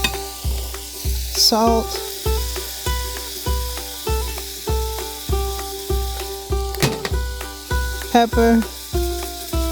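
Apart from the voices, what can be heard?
smash burgers sizzling on a Ninja Woodfire grill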